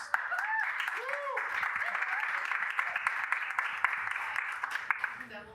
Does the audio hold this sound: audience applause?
yes